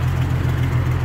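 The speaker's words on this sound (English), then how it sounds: "Let me start it up. Give it a start. Hear the hesitation?" Jeep SJ engine with a miss running in a steady low rumble, loud and close, for about a second with no voices.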